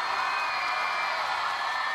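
A crowd at an outdoor band festival cheers and screams in a steady, dense roar of many voices, sustained and fairly loud for the whole moment.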